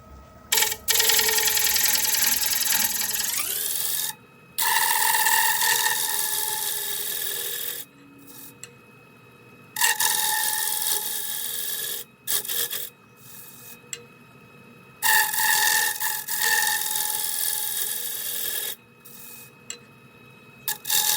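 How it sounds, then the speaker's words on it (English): A negative rake scraper cuts across a spinning wooden bowl on a lathe in repeated scraping, rasping passes, broken by short pauses between strokes. "use my negative rake scraper to try to get it as close as I can"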